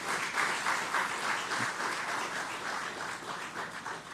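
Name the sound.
audience applause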